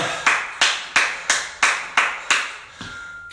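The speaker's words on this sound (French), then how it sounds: "Vous pouvez vous applaudir." A fitness group at the end of a Tabata training session at the Océania Club in Bayonne claps in unison, about eight crisp, evenly spaced claps that each ring briefly before fading out.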